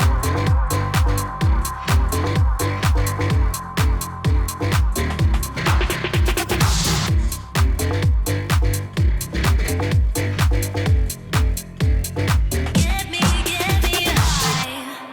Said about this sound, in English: and then we have the outro of the track, which sounds like this.